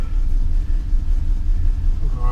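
A 1968 Mustang engine runs roughly just after a very cold start, a loud low rumble with uneven pulsing idle, heard close with no clear voices.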